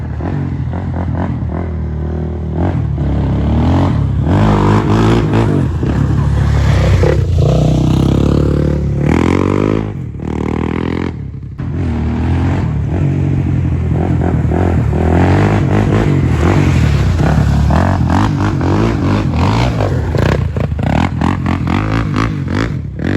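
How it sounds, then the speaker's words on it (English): Suzuki LTZ 400 four-wheeler ATV engine running after wiring and valve repairs, a steady loud idle with revving bursts, clatter and a brief dip midway, heard alone without talk. "As you can tell, the LTZ is back in running condition."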